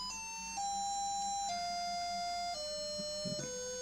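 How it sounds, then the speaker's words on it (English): An electromagnet driven by a square wave signal gives off a steady buzzing tone rich in harmonics. The pitch steps down in five distinct stages as the frequency is changed, with no voices. "you can clearly hear it when I change the frequencies"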